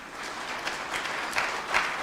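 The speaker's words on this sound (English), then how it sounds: "So give a warm round of applause." Warm round of applause from a conference audience at the International Vision Zero Conference 2023, a steady wash of clapping with a few sharper individual claps standing out near the end.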